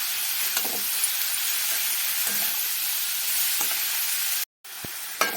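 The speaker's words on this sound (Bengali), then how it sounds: "এবারে সব সুন্দর করে ভাজা ভাজা করব।" Turmeric and chili powder sizzle and fry in a hot pan for cauliflower and egg curry, a steady broadband hiss with occasional stirring scrapes, briefly cut to silence near the end before resuming.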